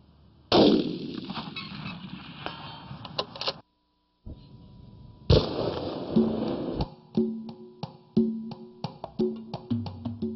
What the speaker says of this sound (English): Jonathan, nice shooting.